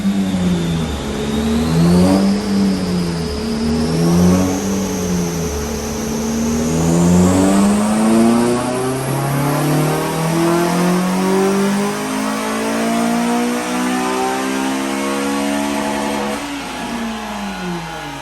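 A Honda Civic Type R FN2 engine revs up through a dyno power run on a new Ecutek remap, a loud close drone that climbs steadily in pitch over many seconds, then drops off near the end.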